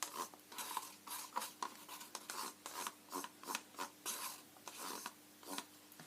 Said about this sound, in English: Scraping out the cup.